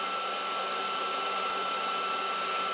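A Bolt Buster induction heater heating a stuck bolt, giving off a steady, even electrical whine and hum that holds unchanged at close range with no pauses.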